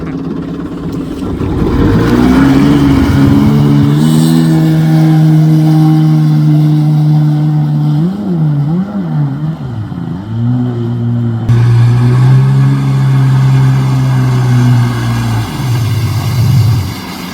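A 30-year-old Kawasaki 750 SX stand-up jet ski engine catches and runs at full throttle, a loud continuous droning roar that wavers and dips in pitch a few times before holding steady to the end.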